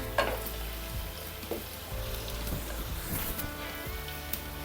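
Steady crackling sizzle of ginger frying in hot oil until crisp, heard up close with occasional sharper pops and no talking.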